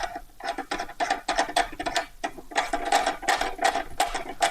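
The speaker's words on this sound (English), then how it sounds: "Very nice sequential gear shifter." Moza AB9 sequential gear shifter being clicked repeatedly, a fast series of sharp mechanical clacks in irregular bursts, close and distinct with no voice.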